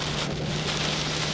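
Rain pours down hard during a tornado, a steady, loud hiss of drops on surfaces with a low rumbling undertone throughout and no voices.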